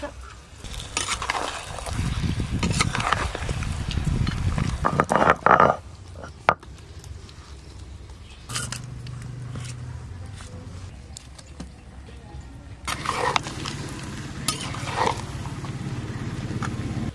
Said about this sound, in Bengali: এবার আমি চাপা না দিয়ে বেশ খানিক্ষণ ধরে এইভাবে নাড়তে থাকবো